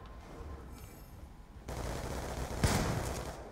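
Shotgun slug blasts from the KSG in the video game Black Ops 2 ring out amid game noise, with a dull thud midway and one sharp, loud shot near the end, no talking over them.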